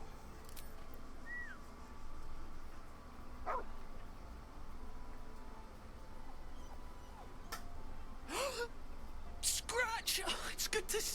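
Scratch, a dog in the video game Baldur's Gate 3, gives a few short barks and yips over a low steady game ambience, with faint whimper-like calls scattered through and brief bursts near the end.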